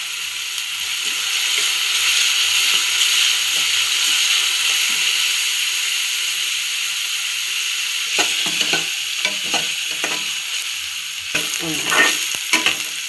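Curry leaves sizzling with onions in hot oil in a pan, a steady frying hiss that turns busier in the second half with repeated clattering stirring strokes, no talk.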